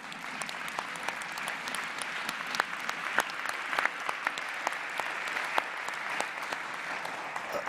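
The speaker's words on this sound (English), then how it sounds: "the applause you've heard" Delegates at a UN Environment Assembly leadership dialogue applaud a Costa Rican minister, sustained dense clapping from a large hall crowd with a few sharper nearby claps standing out.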